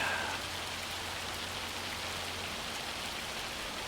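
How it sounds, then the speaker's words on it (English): Hail falls in Farming Simulator 25, a dense, steady patter like heavy rain on a surface, even and continuous with no talk. "The hail just doesn't bounce"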